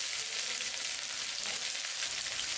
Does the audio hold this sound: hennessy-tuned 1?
no